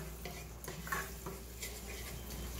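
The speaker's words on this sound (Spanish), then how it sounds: "Vamos a revolver." A spoon stirs cream into browned garlic in a pan, with soft scraping and clinking of utensil against metal over a faint low sizzle, close and fairly quiet, with no voices.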